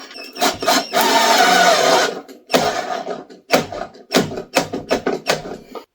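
A cheap Harbor Freight 12V cordless drill whirs under load in one long burst, then stops and starts in a series of short, loud, uneven spurts. No one talks.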